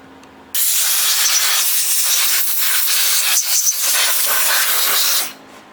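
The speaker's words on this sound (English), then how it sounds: "Try and blow some of the sawdust out without blowing the grease all over the garage" Compressed air hisses loudly and steadily for about five seconds, blowing sawdust out of a circular saw in a garage. It starts abruptly, holds an even, close spray, then cuts off.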